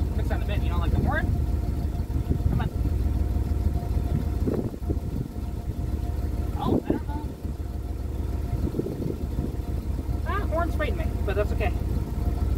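A 1973 Chrysler New Yorker engine idles with a steady low rumble, running continuously beneath someone talking close by.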